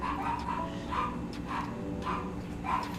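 A dog barks in short, regular yips, about five sharp barks spaced roughly half a second apart, moderately close over a low background hum.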